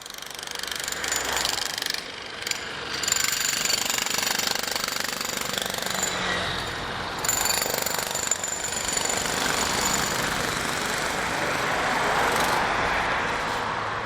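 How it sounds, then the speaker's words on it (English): Jackhammer breaking up concrete on a street in Rawai, a continuous rapid pounding at mid distance that pauses briefly a few times, mixed with passing traffic noise and no talking. "Let me just move away from that noise there from them digging up the concrete."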